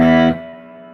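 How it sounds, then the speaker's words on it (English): An electric guitar played through a small 5-watt amp with only reverb on sounds a loud, distorted chord that cuts off sharply after a third of a second, leaving a reverb tail that fades slowly. "I have just reverb on the amp right now"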